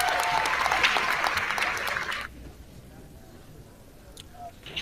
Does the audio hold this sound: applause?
yes